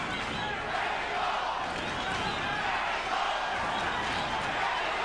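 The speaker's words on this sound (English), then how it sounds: "Crowd chanting Mexico, Mexico," A boxing arena crowd roars and chants "Mexico" in support of Julio César Chávez during his fight with Meldrick Taylor, a dense, sustained wash of voices at moderate distance.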